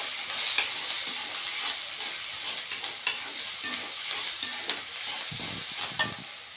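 Turmeric and salt are stirred into a sizzling pan while making Marathi vangyache bharit. There is a soft continuous sizzle with a few scraping spoon strokes, close and fairly quiet, and no one speaks.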